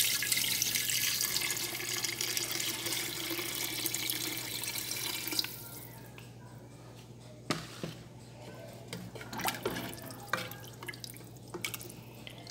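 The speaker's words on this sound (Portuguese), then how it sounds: "Agora eu vou colocar água," Water runs and splashes steadily from a tap into a pot of browned beef ribs for a vaca atolada, loud for about five seconds, then stops, leaving scattered drips and small clinks.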